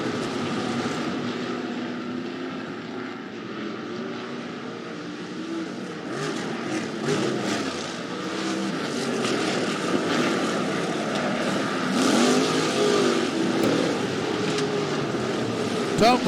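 Sprint car engines roar around the dirt oval at Rapid Speedway during the season opener, a continuous droning, rising and falling engine rumble from a distance, with an announcer talking over it.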